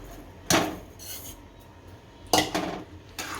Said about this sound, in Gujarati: હવે આ નાળિયેર નાખી દઈશું.